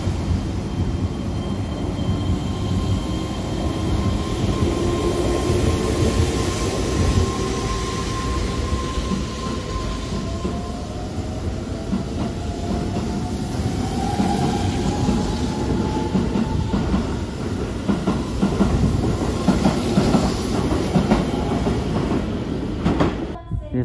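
A Keihan Railway 13000 series electric train pulls out of Moriguchishi station, its steady, loud rumble and wheel clatter joined by rising motor whine as it gathers speed.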